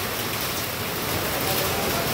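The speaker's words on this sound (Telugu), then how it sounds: "వర్షం అయితే పడుతూ ఉంది." Rain falling continuously on the Srivari Mettu footpath up to Tirumala, a dense, unbroken wash of hissing noise filling the scene at steady moderate loudness.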